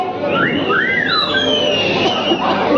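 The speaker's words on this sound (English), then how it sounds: "Can we have some whistle for Aisha?" Audience at the ParisBelle fragrance launch event in Mumbai whistles loudly: several long, sliding whistles rise and fall over steady crowd babble.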